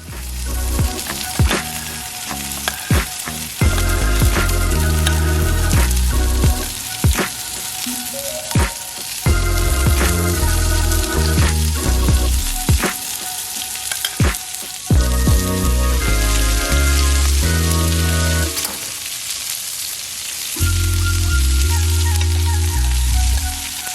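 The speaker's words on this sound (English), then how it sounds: "I'm just going to start brushing the steak with my garlic herb butter" A ribeye steak sizzles loudly on a Blackstone griddle while being basted with garlic herb butter, a dense continuous crackle with sharp pops and spattering that briefly eases toward the end, close and steady throughout.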